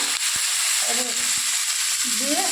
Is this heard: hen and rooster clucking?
no